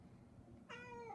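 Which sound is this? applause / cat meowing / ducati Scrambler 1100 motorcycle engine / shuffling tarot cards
cat meowing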